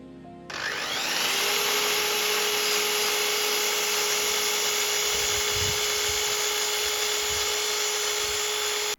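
A miter saw cuts a wooden post for a bike parking shelter, a steady loud whining motor drone holding for most of the clip, then stopping abruptly at the end.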